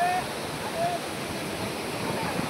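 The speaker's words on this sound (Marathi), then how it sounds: "एक पूर्ण धबधबा आहे इकडे बघा." Water at the Manar dam waterfall pours down in a steady, broad rushing hiss that stays even throughout, with a few faint tonal chirps in the background.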